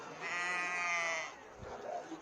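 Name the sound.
Estonian dark-headed sheep bleating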